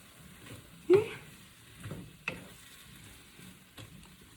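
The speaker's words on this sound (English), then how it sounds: "And then you add your beef back in, like so." Beef sizzles in a pan during stir frying for beef and broccoli, with a few soft clattering stirs and scrapes spaced out over a quiet, low frying hiss.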